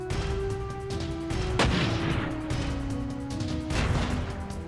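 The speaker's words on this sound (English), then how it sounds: "Damn grenades." Repeated grenade blasts and gunfire in the mecha video game Front Mission 4, with a loud burst near the middle and another toward the end over a steady din of combat effects.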